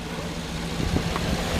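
A 2011 Cadillac Escalade ESV with a 6.2 liter L94 V8 runs at a steady low idle, a close, even engine rumble with a few slight rises in the middle.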